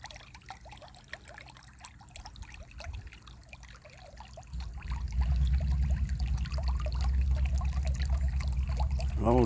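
Water from a pump splashes and trickles into a chicken pool. A faint dribble is heard at first, and then a steadier, louder flow of moving water takes over near the listener.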